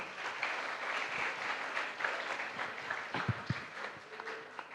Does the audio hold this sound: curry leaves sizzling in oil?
no